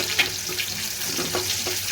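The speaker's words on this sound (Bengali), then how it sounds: "কড়াই বসে তেল দিয়ে দিলাম, দিয়ে দিলাম পেঁয়াজ, রসুন কুচি, এগুলো একটু বেরেস্তা বানিয়ে নেব" Chopped onion and garlic frying in oil in a wok, a steady close sizzle with light stirring scrapes over it.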